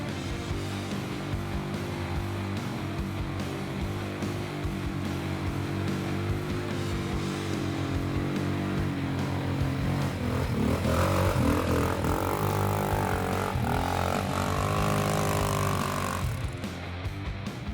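A Motoland Wildtrack rear-drive ATV quad churns through swampy mud, its engine droning steadily and loud throughout, revving harder and strained toward the end as the tires struggle for traction.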